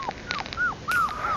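A dog whimpers and whines in a series of high, wavering, drawn-out cries, close by, outdoors near a campfire in hot weather.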